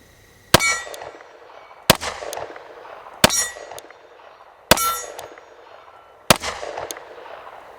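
Five loud, ringing metallic clangs sound at roughly even intervals as Glock 20 rounds strike a steel target at a range, each hit decaying with a brief shimmering ring.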